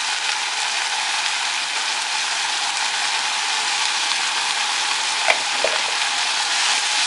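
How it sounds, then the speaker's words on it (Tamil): Chopped tomatoes with salt sauté in a pan for a cabbage and peas poriyal, giving a steady, close frying sizzle with faint stirring scrapes near the end and no talk. "தக்காளி போட்டு கொஞ்சம் அந்த சால்ட் ஆட் பண்ணிட்டீங்கன்னா சீக்கிரம் வதங்கிடும்"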